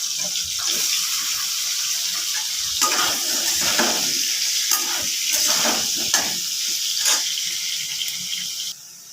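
Potatoes fry in the same oil left from frying eggs in a wok, giving a loud, steady bubbling sizzle for several seconds, broken by repeated clattering stirs and scrapes close by, with no talking.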